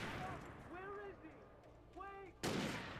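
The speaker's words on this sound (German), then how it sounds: "Schießen die einfach mit Leuchtsignalen." Flare gun fires in the video game Alan Wake: one sudden, loud, broadband blast near the end, after a stretch of speech.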